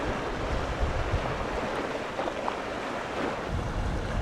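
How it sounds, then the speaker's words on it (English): Wake waves from a passing container ship in a narrow river channel surge toward the embankment, a steady broadband wash of water mixed with wind noise, with no voices. "Waves generated by the vessel's hull propagate along the channel, surging toward the embankment."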